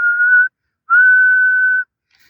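A person whistles into a CB radio microphone, two steady single-pitch tones, a short one then a longer one after a brief gap, loud, close and alone.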